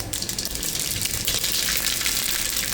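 Mustard seeds crackle and sizzle in hot oil in a pot for Gujarati kadhi, a dense, loud, continuous hiss close up with no voices.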